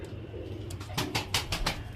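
Tournament racing pigeons, a red-headed male and a female, coo softly at close range in a brief, faint moment, with a few quick rustling bursts like fluttering wings.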